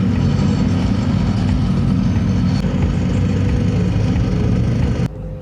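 Heavy machinery from nighttime roadwork runs nearby in a steady, loud, low engine drone with constant rumble, shifting slightly before a brief drop near the end.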